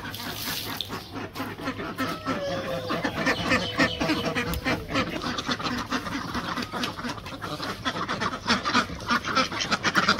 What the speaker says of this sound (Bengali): তো হাঁসগুলা ছেড়ে নেই।